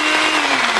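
A blender whips up yogurt with a brief, loud, steady motor whir up close. No voices are heard.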